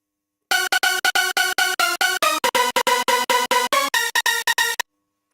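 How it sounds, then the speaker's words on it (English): A Eurobeat lead synth sample plays a fast run of about two dozen staccato notes in a steady rhythm, bright and buzzy, loud and alone, with silence before and after. "this is actually a lead I got from Kesari's sample pack,"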